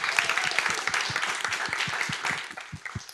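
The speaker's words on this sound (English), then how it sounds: "Huge applause" Fringe festival audience in Stockholm gives a burst of applause after a livestreamed Q&A, fairly close, brisk clapping with a few distinct loud claps standing out as it thins toward the end.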